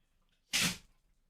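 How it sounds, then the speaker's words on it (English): A single big sneeze from a dog, sharp and close, rising out of near silence and fading quickly. "Oh, big sneeze."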